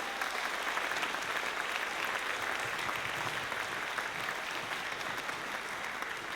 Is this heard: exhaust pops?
no